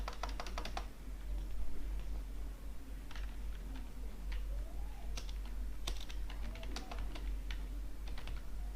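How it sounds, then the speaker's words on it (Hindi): Computer keyboard clicking as someone types in MS Word and taps the space bar, a scattered run of crisp close keystrokes in small bursts over a low background hum. "स्पेस बार से भी यहाँ तक आ रहा है।"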